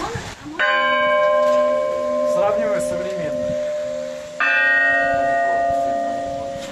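A large 430-kilogram Orthodox church bell strikes twice, each deep toll ringing out and humming long into its decay, with a brief spoken remark between the strikes.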